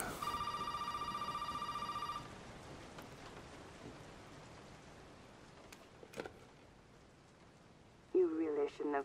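In Resident Evil 7 a telephone rings with a loud, sustained bright trill for about two seconds, then gives way to quiet rain-like ambience with scattered clicks before a voice speaks near the end.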